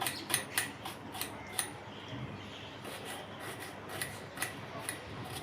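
A knife chops a large onion on a board with quick, crisp, fairly faint taps in irregular bursts at close range.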